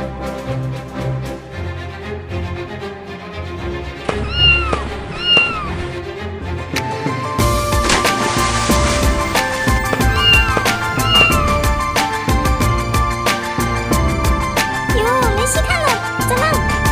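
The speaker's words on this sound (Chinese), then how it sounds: "不就是一只猫吗？" An animated cartoon kitten gives several short, high meows over continuous background music that grows fuller partway through.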